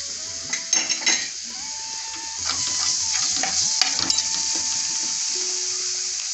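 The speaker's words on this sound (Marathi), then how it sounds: "घरगुती आगरी मसाला मोठे 4 चमच तेलात परतून घेऊया" Homemade Agri masala fries in four big spoons of oil with a steady, close sizzle, while a spoon clinks and scrapes against the pan in a few early bursts.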